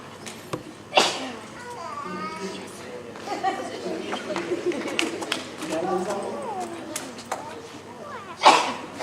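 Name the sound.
sneeze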